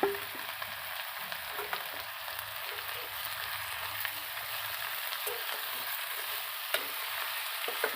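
Greens with peas, whole green chillies, onion and garlic sizzle steadily in a pan, a continuous close frying crackle with occasional stirring knocks.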